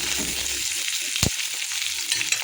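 Onion, garlic and ginger frying in hot oil for potol korma, a steady broad sizzle with one sharp clack of a utensil partway through, close and fairly quiet, no voices.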